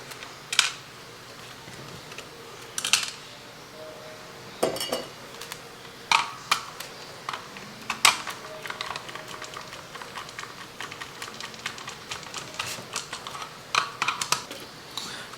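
Small screws being handled and fitted into a vintage GI Joe Troubleshooter Talking Communications Center toy, heard up close as scattered light clicks, taps and scrapes of metal on plastic at an irregular pace.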